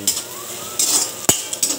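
Garlic and bird's eye chili go into a pan with fish being cooked, giving short bursts of sizzling and a sharp metallic clink of the stirring utensil against the pan, close and clear.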